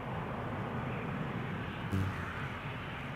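Transavia Boeing 737-800 jet arriving on the Polderbaan runway at Schiphol, a steady broad roar of engines and airflow held at even loudness throughout, with a brief brighter swell near the middle.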